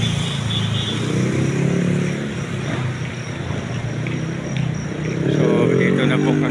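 Motorized tricycle engine running on a Philippine road trip, a steady loud droning rumble with rising revs near the end, heard close up with some voices underneath.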